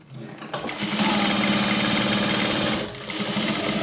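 A sewing machine runs fast and continuously close by while stitching a seam, its rapid mechanical chatter steady for a few seconds with a brief slowdown partway through.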